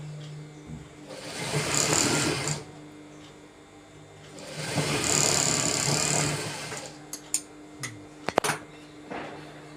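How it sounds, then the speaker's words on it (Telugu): A sewing machine stitching a pants belt runs in two sustained bursts of whirring, with a short pause between them, followed by a few sharp clicks and knocks near the end. The machine is close and there is no talking. "ఇట్లా బెల్టలు సమానంగా అనుకుంటూ దాని నుంచి కుట్టు రావాలండి"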